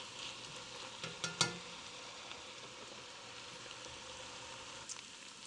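Dry chili seasonings frying in hot fat in a pot: a soft, continuous sizzle with a few brief clinks and scrapes of stirring early on, quiet and close, with no talking.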